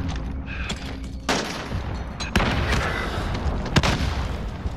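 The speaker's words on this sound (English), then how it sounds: "Oh, that's a grenade right on top." A grenade explodes close by in the video game Modern Warfare. Sharp blasts and heavy booms rise from rumbling battle noise, followed by more scattered gunfire.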